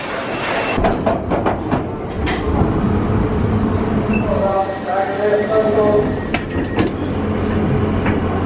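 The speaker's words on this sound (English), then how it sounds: "Train is coming in 2 minutes." A metro train pulls into an airport station at London Heathrow. It rumbles steadily for several seconds, with sharp metallic wheel squeals and screeches rising loudly midway through the arrival.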